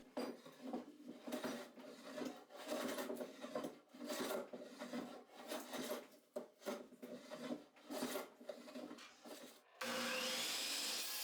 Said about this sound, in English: Give it a good surface planing